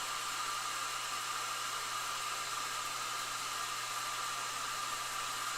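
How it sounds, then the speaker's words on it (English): A hair dryer blows with a steady, even whoosh and a faint hum, running continuously without pause. "Back to the hairdryer. It's getting noisy again."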